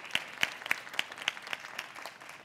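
An audience claps for a panel speaker at a women-in-tech entrepreneurship event: a thin, moderately close round of separate, evenly spaced claps rather than dense applause, with no talk over it.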